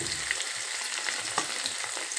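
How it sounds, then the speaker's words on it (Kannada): Seven or eight green chillies fry in hot oil as the first step of upma, giving a steady, close sizzle with faint stirring clicks and no voices. "ಮೆಣಸಿನಕಾಯಿ ಒಂದು ಸ್ವಲ್ಪ ಎಣ್ಣೆಯಲ್ಲಿ ಕೆಂಪಾಗಬೇಕು ಫ್ರೆಂಡ್ಸ್."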